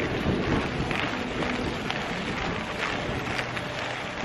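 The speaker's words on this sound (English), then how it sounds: "that wind is really cold" Strong, cold wind roars steadily across the microphone while cycling outdoors, a dense broadband rush with gusty surges and no voices.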